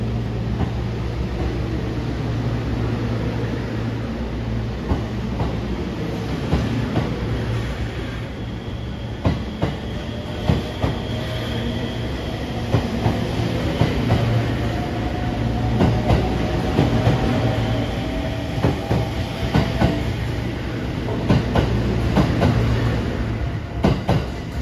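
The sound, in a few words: Sunrise Seto sleeper limited express train at Takamatsu Station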